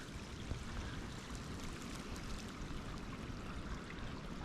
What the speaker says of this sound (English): Must be a lot of water flowing into this because it's flowing out just as fast.